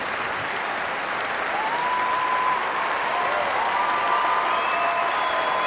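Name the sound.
crowd applauding Jana Novotna at Wimbledon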